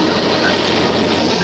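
A train passing near a rail yard, a steady loud broadband rumble and roar filling the whole moment without breaks or voices.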